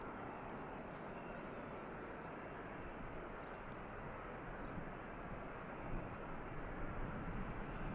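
An Air Transat Airbus A321neo arriving from Toronto touches down at Manchester Airport, a steady low roar of jet engines heard from a distance, faint and even throughout.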